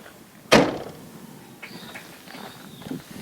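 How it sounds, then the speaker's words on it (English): A car door on a Mazda Miata thumps shut once, close and loud, with a sharp broadband slam followed by quiet interior rustling and faint movement. "Let me close the door."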